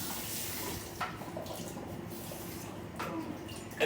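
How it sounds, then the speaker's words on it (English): Running tap water splashes steadily as a blender that held a tomato and salt sauce is rinsed, a soft continuous gush with a few brief louder splashes. "I'm going to go ahead and rinse that off"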